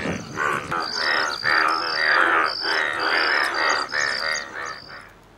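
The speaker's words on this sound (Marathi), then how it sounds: "ग्रामीण भागात वर्षभर शांत असलेले हे बेडूक पावसाळ्यात मात्र जमिनीवर येतात." Yellow frogs croaking in monsoon rain in rural Akola, a dense chorus of many overlapping calls pulsing steadily and loud from start to finish, with no voices.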